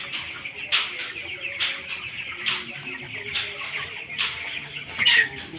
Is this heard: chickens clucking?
yes